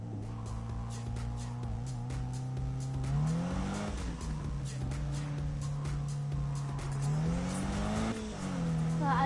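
Car drifting in the Need for Speed video game, with a sustained engine drone and tire squeal that rise and fall as the car slides through turns, loud and continuous.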